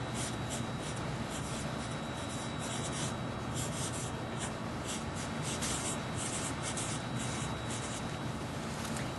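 Pen strokes scratch across paper in short repeated bursts, faint and close, with no talking.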